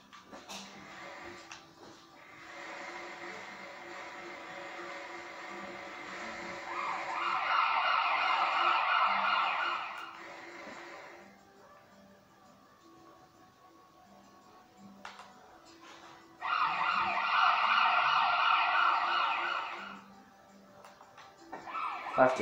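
A wailing ambulance siren in Minecraft rises in two loud bursts, with quieter game sounds and a low hum between them.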